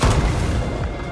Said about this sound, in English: Oh no, it's just grenade.